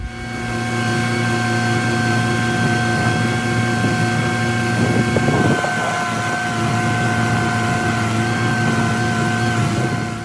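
A steady tractor engine drone with strong humming harmonics runs throughout, loud and continuous, with a brief rougher burst midway and no talking.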